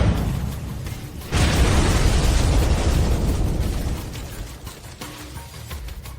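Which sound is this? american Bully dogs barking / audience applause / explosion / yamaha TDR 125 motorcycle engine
explosion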